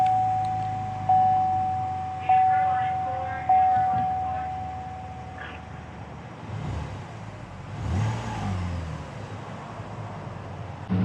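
A 2019 Chevrolet Blazer Premier started by push button: repeated electronic chime tones give way to the engine cranking and catching, then settling into a low, steady idle, heard from inside the cabin.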